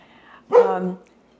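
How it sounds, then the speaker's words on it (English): A single dog bark or short yelping woof rings out fairly close, about half a second long, with quiet room tone before and after. The dog is barking at someone going door to door in a neighborhood. "that's what my dog is barking at"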